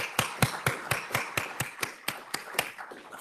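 A single pair of hands claps about a dozen times in a steady, evenly spaced rhythm, sharp and close, for donors at a forum on data center energy use; the pace slows slightly toward the end, with no talk over it.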